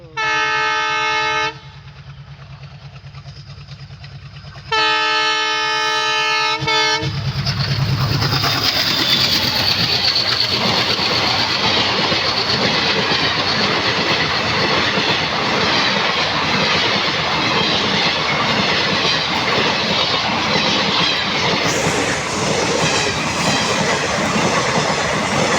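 A train passes on a railway line, announced by loud, repeated horn blasts before a long, roaring rumble of wheels and cars fills the rest of the clip at close range.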